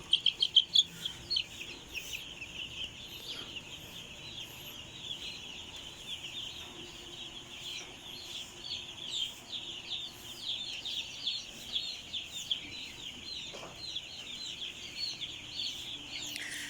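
A dense, steady flock of three-day-old broiler chicks peeps constantly in a farm brooder, the high chirping chorus holding evenly throughout with a few louder calls near the start.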